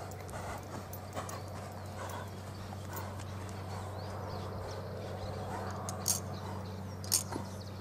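A chestnut horse being worked under rein on a ranch clip-clops steadily, its hooves thudding in a continuous rhythm over a low outdoor hum, with a couple of sharper knocks near the end.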